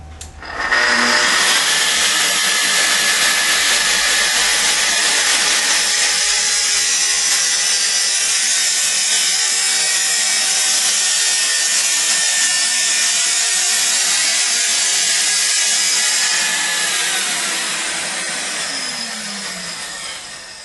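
A Festool plunge-cut saw slices through wood in one long, steady pass. The high, broad whirring rasp holds level and close with no talk, then eases off and fades toward the end.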